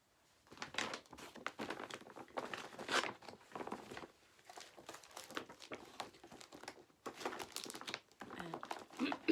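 A plastic bag holding a cross-stitch project crinkles and rustles in repeated close bursts, loud and irregular, with brief pauses between handlings.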